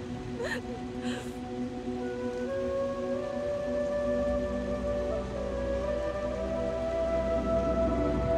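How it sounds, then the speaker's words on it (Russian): Rain falling in the video game Brothers: A Tale of Two Sons, a soft steady hiss of rainfall beneath sustained, slowly shifting musical tones, with a couple of brief breathy sounds near the start. "Тут еще такой дождик идет"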